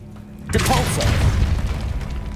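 The Depulso spell is cast in the video game Hogwarts Legacy, setting off a sudden booming whoosh that swells after a quiet start and rumbles on loudly, with a spoken incantation mixed in.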